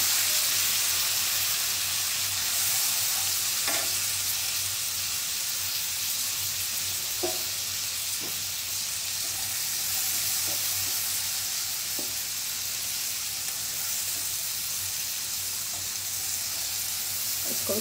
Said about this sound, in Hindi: और अब हम इसमें डालेंगे अनियन।